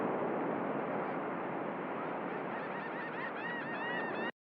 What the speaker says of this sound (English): a little bit of ambience with the cymatics, life, waves, and seagulls sound